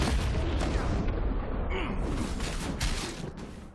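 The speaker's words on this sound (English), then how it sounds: "Cool guys don't look at explosion." Explosion in the video game Ashes of Creation, a loud, dense rumbling blast that fills the first seconds before tapering off, with noisy debris-like crackle throughout.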